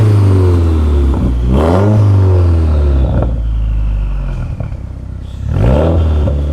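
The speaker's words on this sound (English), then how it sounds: "you can hear the whine of the turbo back here?" A 2018 Subaru WRX turbo engine revs up several times with loud rising sweeps and a turbo whine, each rev falling back between bursts, heard up close with no talking.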